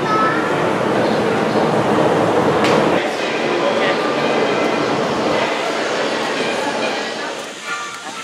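A Disney monorail train rides toward the Magic Kingdom with a loud, steady rolling rumble and hum from inside the car, which eases off slightly toward the end.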